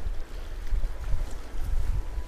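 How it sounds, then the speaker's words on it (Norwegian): Sea waves on the Oslofjord watched from the shore, a low churning wash mixed with gusty wind buffeting the microphone, steady and fairly loud with no voices. "det begynner å bli bra bølger."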